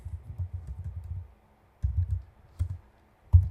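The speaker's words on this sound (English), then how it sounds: "Let's just go ahead and type that in." Typing on a computer keyboard in bursts of soft, low clicks, with short pauses between runs and a final louder keystroke; close and quiet, no voices.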